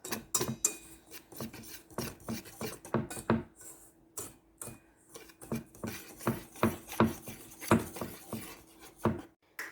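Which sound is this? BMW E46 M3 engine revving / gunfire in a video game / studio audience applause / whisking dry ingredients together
whisking dry ingredients together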